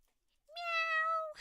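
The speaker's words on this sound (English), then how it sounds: "I love the ghost cat." A single clear, drawn-out meow from the ghost cat in the animated film Scary Godmother, rising briefly and then holding steady for about a second, loud and close with no other sound around it.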